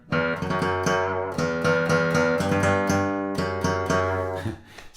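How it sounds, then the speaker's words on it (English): Guitar playing a melody picked close to the bridge, giving brighter, twangier plucked notes in a fast, steady run that rings out and fades at the end. "Actually, you could play it closer to the bridge."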